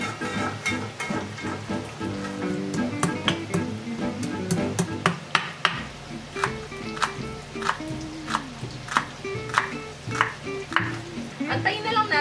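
Tofu frying in hot oil in a pan for a home-cooked Filipino dish, a constant crackling sizzle with repeated sharp clinks and scrapes of a utensil stirring against the pan.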